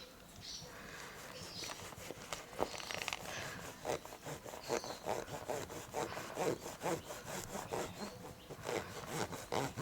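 Rapid back-and-forth rubbing as a baby wipe scrubs tarnish off a vintage Louis Vuitton metal zipper, a soft rhythmic scraping of steady strokes heard close up.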